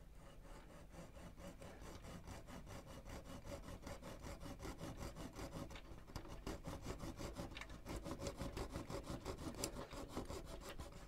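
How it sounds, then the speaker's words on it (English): A hacksaw cutting a piece for a tank model diorama: steady rapid back-and-forth rasping strokes, close and even, continuing throughout with no talking. "I'm going to try and cut them with this hacksaw"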